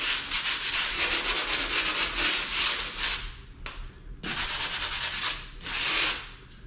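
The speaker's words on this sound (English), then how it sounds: "I'm using a 60 grit sanding sponge just because it's what was convenient." A 60 grit sanding sponge rubs over a drywall patch in steady back-and-forth strokes, loud and close, with a brief pause before the scraping resumes.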